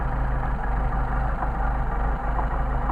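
A Mercedes 190SL engine idles while its carburetor idle mixture screw is adjusted, giving a steady, close, loud low rumble with a slightly uneven pulse throughout and no talk.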